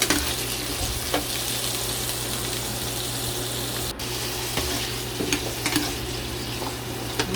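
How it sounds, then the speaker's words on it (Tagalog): Potatoes and carrots frying in hot cooking oil in a pan, a steady close sizzle with occasional stirring scrapes, continuous and even throughout, no voices. "naglagay tayo ng mantika, then isasangkot siya natin yung patatas and carrots"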